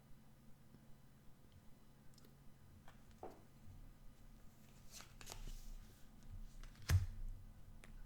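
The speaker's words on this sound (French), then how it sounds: "je vais tirer les 3 autres cartes." Tarot cards being shuffled and drawn by hand, soft close riffling and flicking with light taps and slides, quiet and intermittent, growing a bit louder toward the end.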